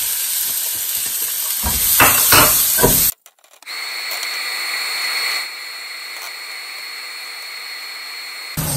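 Onion frying in a pan gives a loud, steady sizzle with stirring scrapes, then cuts to near silence. A softer, even hiss of frying resumes and runs to the end.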